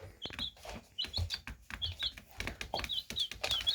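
Baby chicks peep close by, a steady run of high, thin chirps repeating in quick bursts over soft background shuffling.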